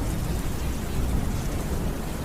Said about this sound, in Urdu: بارش نے برسنا شروع کر دیا۔